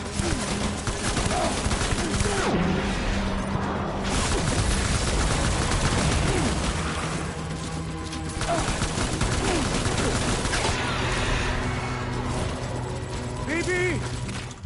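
Rapid gunfire rattles through a Death Stranding battle, bursts of automatic shots and scattered single cracks over a loud, continuous din, with voices calling out between volleys.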